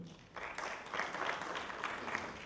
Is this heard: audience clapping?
yes